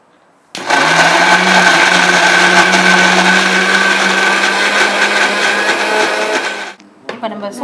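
A kitchen mixer grinder whirs loudly and steadily, grinding a sautéed and cooled yellow pumpkin mixture for a Tamil vadisaaru curry, running for about six seconds before cutting off with a brief rattle.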